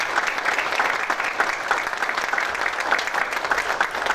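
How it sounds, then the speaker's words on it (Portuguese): An audience at a housing ministry ceremony gives a round of applause for tireless workers, a steady, moderately loud patter of many hands clapping without a break. "pudéssemos dar uma salva de palmas a essas pessoas que se dedicaram incansavelmente"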